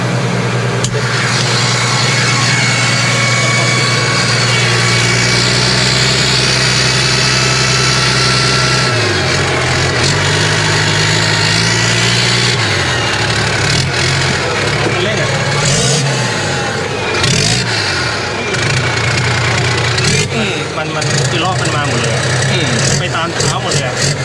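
A modified twin-turbo Ford engine rumbles loudly and continuously, idling with rises in pitch as it revs, while people talk over it.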